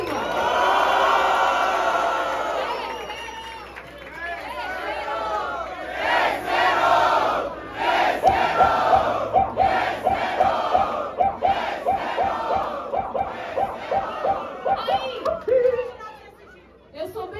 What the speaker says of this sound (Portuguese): quem acha que foi? P-Dog, barulho e mão pra cima